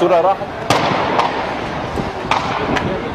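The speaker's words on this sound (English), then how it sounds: "The sound of gunfire." Sharp cracks of gunfire pop out at irregular intervals, a few seconds apart, over a dense, noisy street-protest background in Egypt, with a brief voice at the start.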